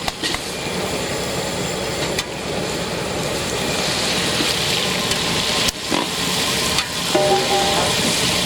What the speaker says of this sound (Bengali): দেখুন পোলট্রির মাংসটাকে ভেজে নিচ্ছে